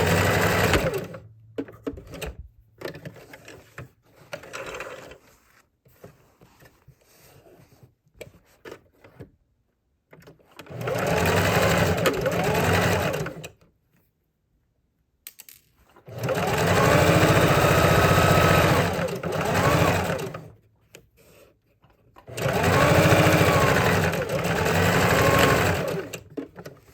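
A sewing machine stitches the seams of a fabric reusable gift bag in three long, loud rapid runs separated by quiet pauses with small handling clicks and shuffles.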